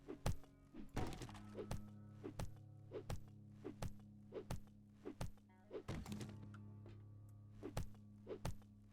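Boxes are broken in the game 7 Days to Die with a steady series of about a dozen hollow, close thunks at roughly regular intervals, set against a low constant hum.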